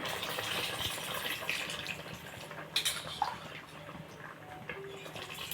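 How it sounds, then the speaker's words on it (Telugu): Tamarind water pouring softly into a pot of sambar, a faint steady trickle with a few light clinks and splashes. "పులుసు వేస్తున్నాను."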